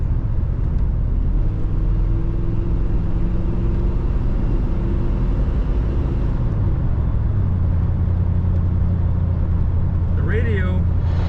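A 1985 Buick LeSabre Limited Collector's Edition cruises down the road, its engine and tires giving a steady low rumble with shifting engine tones, heard from inside the cabin.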